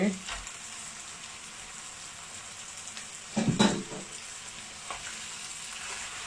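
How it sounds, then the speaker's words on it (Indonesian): Goat meat being stirred and sautéed in a hot pan after dry lemon, a steady close sizzle with a brief louder burst of stirring and scraping midway. "daging kambingnya ini kita aduk dan biarkan kurang lebih 2-3 menit sampai dia agak berubah warna"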